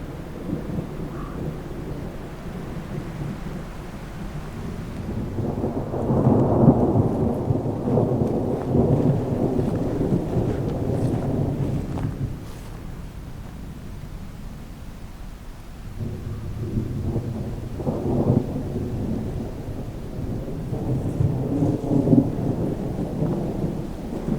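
Deep rolling thunder from cloud-to-cloud lightning during a storm rumbles in two long waves, with a lull between them, over a soft bed of rain. No voices.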